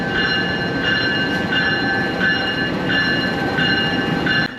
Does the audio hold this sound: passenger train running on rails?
yes